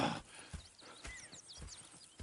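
Horses in Red Dead Redemption 2, a steady walking clip-clop of hooves at an even rhythm, fairly quiet, with soft chirping birds in the background.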